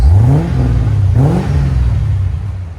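A C4 Chevy Corvette 5.7L V8 with a Borla ProXS exhaust revs up and falls back twice, a deep throaty exhaust rumble close by, steady and loud between the revs, around 90 dB.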